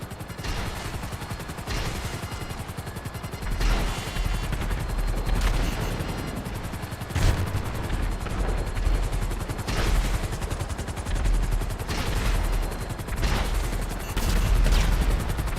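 In GTA Online, a Sparrow helicopter's weapon fire pounds out in heavy repeated bursts over a constant loud rotor drone, with booming impacts spaced every second or two.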